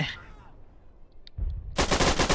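Rapid gunfire from the video game Scorched Earth: a short burst at the start, a quiet gap with faint clicks, then sustained loud automatic fire filling the last second.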